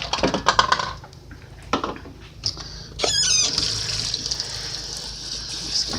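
A canning jar is rinsed under a running kitchen tap, with water splashing and gushing steadily for several seconds, then a brief squeak of glass and a stronger rush of flow near the end.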